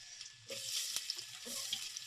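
Onions and green chillies frying for chicken curry, a steady close sizzle with a stirring scrape partway through, no voices.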